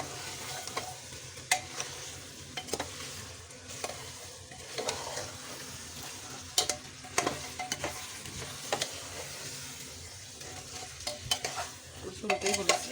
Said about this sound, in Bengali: আমি ভালো মতো আবার একটু নাড়াচাড়া করছি, মাংস আর